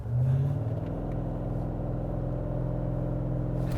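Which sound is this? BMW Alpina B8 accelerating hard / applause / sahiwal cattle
BMW Alpina B8 accelerating hard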